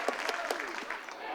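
Energetic crowd at a college baseball game in Greenville clapping and applauding, a brief burst of scattered hand claps with some crowd noise, fairly faint and distant.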